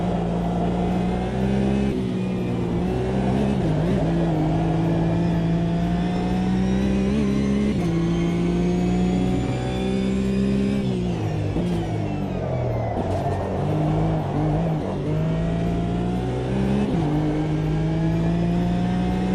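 A Porsche race car's engine in the sim racing game Automobilista 2, a loud, steady engine drone that rises and falls in pitch through repeated gear changes and throttle lifts, unbroken for the whole stretch.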